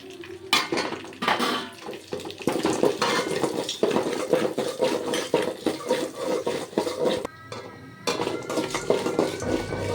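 Whole spices such as cinnamon, star anise, cloves, cardamom and poppy seeds are dry roasted for an intestine curry and scraped around a metal pan with a ladle, giving steady clattering and scraping strokes that run on close by without speech.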